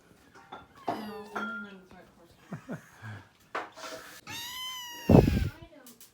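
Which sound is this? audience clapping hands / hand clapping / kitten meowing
kitten meowing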